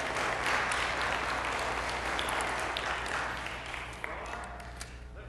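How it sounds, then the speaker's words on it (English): A church congregation applauds with sustained, fairly distant clapping from many hands that gradually thins out toward the end. "you go ahead and give yourself a round of applause."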